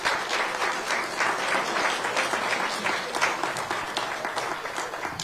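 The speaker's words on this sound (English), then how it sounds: "give them a round of applause." Audience at a city election candidate forum applauding the candidates, steady dense clapping from a crowd that holds for several seconds at an even level.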